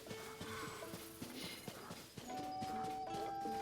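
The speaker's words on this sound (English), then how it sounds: "Horses, look at that." Horse hooves clip-clopping in Tears of the Kingdom, a quick regular rhythm of faint hoof beats over soft game ambience, with a sustained musical tone entering partway through.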